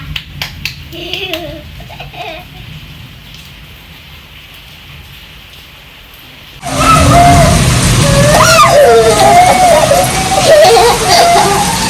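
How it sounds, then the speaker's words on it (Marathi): Heavy rain pours down during a Pune storm, a dense, loud hiss of downpour that surges in suddenly after a quieter stretch of softer dripping and a few voices. "हे बघा पाऊस खूप मोठा पडतो"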